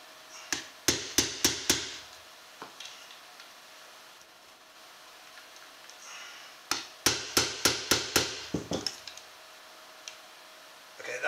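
A wooden piece being tapped into a five-string banjo build makes two quick bursts of sharp, evenly spaced knocks, about five then eight blows, separated by a quiet pause.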